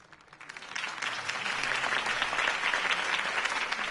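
Video game crowd applause in Batman: The Telltale Series swells quickly and holds as steady, dense clapping from many hands for a few seconds.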